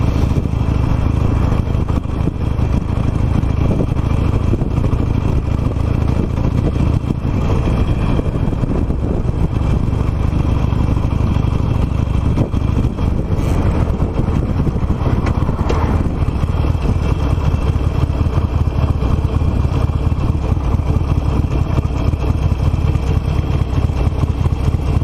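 An old Harley-Davidson Nightster motorcycle rumbles steadily while riding on a winter road, a loud, continuous engine drone with wind noise and no talking.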